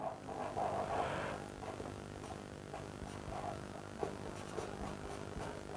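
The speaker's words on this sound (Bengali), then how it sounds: "জাস্ট আমি লিখছি ট্রোপো" Chalk or a marker scratches steadily across a board during an environmental engineering lecture, a continuous close scraping with small taps and strokes and no talking.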